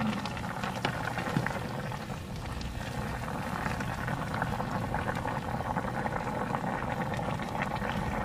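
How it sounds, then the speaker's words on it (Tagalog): A covered pot of sinigang pork stew with jackfruit boils steadily, giving a continuous, even bubbling and simmering hiss at moderate volume. "takpan lang at pakuluan hanggang po lumambot yung ating mga nilagay"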